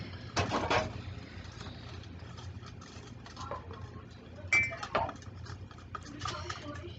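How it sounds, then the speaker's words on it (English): A spoon stirs a cloudy solution in a cup, scraping and clinking against the sides in irregular bursts, with sharper clinks near the start and middle. Quiet room ambience in the background. "Mom is going to stir it for at least 30 seconds"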